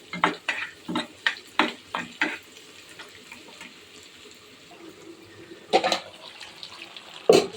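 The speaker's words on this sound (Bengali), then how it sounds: "পেঁয়াজের কালি ভাজি করার জন্য পেঁয়াজ আর রসুন দিয়ে দিয়েছে।" Onion and garlic frying in a pan for a potato dish, stirred in a quick run of rhythmic scraping strokes, then a quieter sizzling stretch broken by two more sharp clatters near the end.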